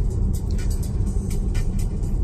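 A car drives along the Rublevo-Uspenskoye highway, heard from inside as a steady low road rumble with tire and wind noise, continuous and even with no talking.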